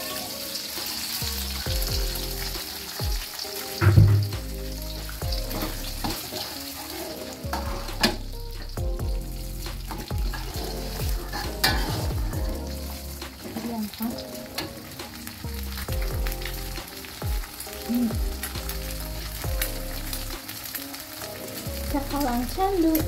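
Tomato and egg fry in a pan while being scrambled for sambal cakalang, making a loud, continuous close sizzle broken by scraping stirs and clinks of the utensil.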